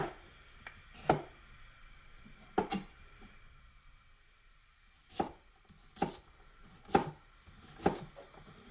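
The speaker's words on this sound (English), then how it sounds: "I like to have my onions not finely diced" A knife chops onions on a cutting board for Southern-style beans, giving about seven sharp, close, irregularly spaced chops with quiet pauses between them and no talking.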